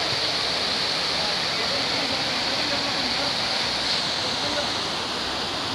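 Water rushing through a breached canal in a village, a loud, continuous roaring hiss that stays steady throughout with no pauses, heard close.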